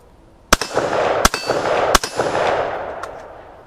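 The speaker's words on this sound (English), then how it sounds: "After you let go of that trigger and the sear resets itself, you can hear it there." A semiautomatic rifle's trigger sear resets with three sharp metallic clicks at regular intervals, close and distinct, each followed by a brief ringing tail and then a faint final tick.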